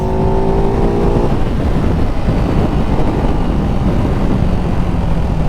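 Ducati Hypermotard 698 Mono single-cylinder engine on a test ride: a loud, harsh, continuous roar with heavy wind buffeting, a clear rising rev tone at the start, then a steady rough drone; no voices.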